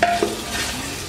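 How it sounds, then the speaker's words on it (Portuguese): Beef sizzles and crackles as it fries in the bottom of a pressure cooker, a steady close hiss broken by a brief scrape of stirring near the start. "a carne já tá frita"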